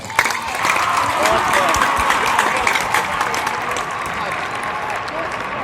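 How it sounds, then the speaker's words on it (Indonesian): Lively applause from a group of Islamic boarding school students for two classmates, dense and fairly close, with voices mixed in beneath the clapping throughout. "Tepuk tangan untuk mereka berdua."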